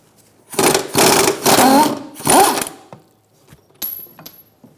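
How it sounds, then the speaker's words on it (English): A power tool with an 18mm socket zips out the rear shock absorber bolts on a 2013-2022 Buick Encore in three or four loud, close bursts of whirring, then quieter metallic clicks and clinks. "Using an 18mm socket, we're going to take out these two bolts."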